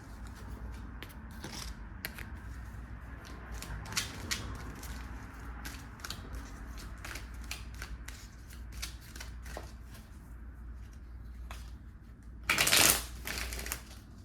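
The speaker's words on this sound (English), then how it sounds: "I'm going to pull a guidance cards from the dragon deck, the Japanese dragon deck." A Japanese dragon oracle deck is shuffled by hand, giving a run of crisp riffling clicks and soft card slaps, with a louder, denser flurry of shuffling near the end and no talking.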